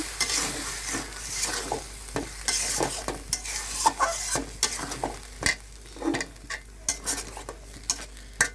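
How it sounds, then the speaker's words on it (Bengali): Shing catfish curry in masala, with a little water added, is stirred in a frying pan: repeated rhythmic scrapes and clatters of the spoon rise over a constant sizzling hiss, with no voices. "এবার আবার একটু নাড়াচড়া করছি"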